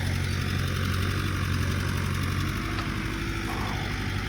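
A backhoe engine drones with a low, steady rumble and mechanical clatter while digging a deep septic test hole, continuous and fairly close with no talking.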